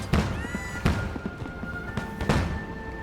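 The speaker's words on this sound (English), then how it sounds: "So I also don't know if firing off the fireworks helps any or what." Fireworks burst at the Dragon Bash festival, three sharp booming thuds spaced about a second apart over a busy outdoor crowd din, with whistling tones rising between the blasts.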